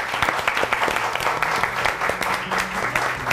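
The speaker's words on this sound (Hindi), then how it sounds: "तालियां बहुत सारी होनी चाहिए इनके लिए" An audience applauds a singer at a weekend show, a loud, continuous patter of many hands with some sharper individual claps standing out, close and sustained.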